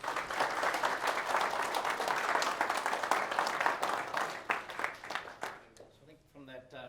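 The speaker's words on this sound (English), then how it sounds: "So I think from that applause probably says it all, Matt," Audience applause after a professional talk, a steady dense clapping that holds loud for about five seconds, then thins out and fades into a few scattered claps.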